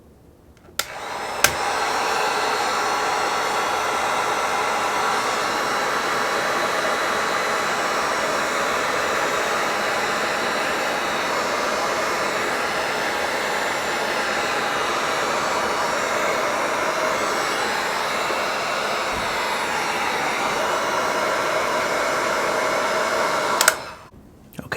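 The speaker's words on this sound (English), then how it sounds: "I'm going to use the heat gun first and we'll try to dry the leather that way." A heat gun blows a steady, loud broadband whoosh while drying a spot of leather during mirror-shine work, running continuously for most of the stretch with no talk.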